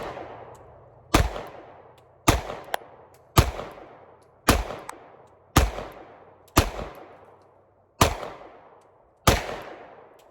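Eight shots from a Sig P365 pistol loaded with mixed ammunition, including hollow points and +P rounds, fire at a steady, roughly one-second rhythm, each a sharp, loud crack with a short ringing decay, alone without talk.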